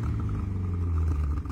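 A 1991 Mazda Miata engine idles with a low, steady rumble, close and continuous for the brief moment, with no talk.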